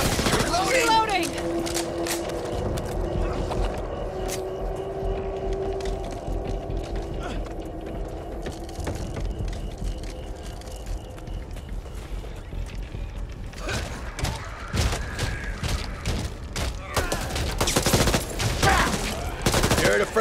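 Gunfire in the Back 4 Blood zombie shooter, with sustained automatic bursts and scattered single shots running throughout, dense and loud, heaviest toward the end, with mechanical clicks between volleys.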